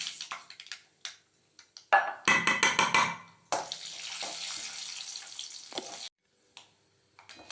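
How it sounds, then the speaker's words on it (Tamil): Urad dal and mustard seeds fry in oil as a tempering for kothavarangai paruppu usili, with a burst of crackling and popping followed by a loud hissing sizzle between short knocks and quiet gaps. "இந்த பாருங்க, உளுத்தம்பருப்பு நல்லா செவந்து வந்துடுது."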